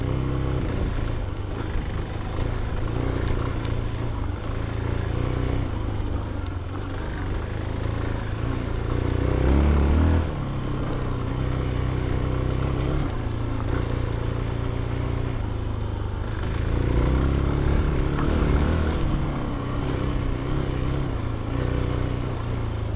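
A CFLite Dual 250 dual-sport motorcycle rumbles steadily throughout a ride, its engine droning at a fairly even pace with slight rises in revs, heard continuously from close range.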